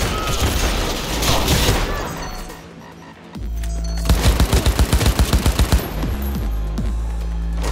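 Heavy gunfire blasts through a Cyberpunk 2077 fight: dense shots and booms at first, then a brief lull, then a rapid, evenly spaced burst of automatic fire, loud and punchy throughout.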